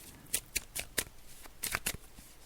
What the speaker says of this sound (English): So I'm just shuffling the cards.